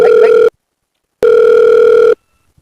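A telephone rings loud and close in two long electronic tones, the first cut short and the second lasting about a second, with silence between.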